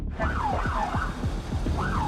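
A police siren wails and chirps in quick rising and falling sweeps, fairly close, with a low engine rumble underneath.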